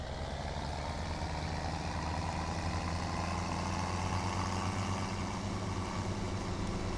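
Tractor engine in the Farming Simulator 17 video game, a steady low droning hum running continuously at moderate volume with no speech over it.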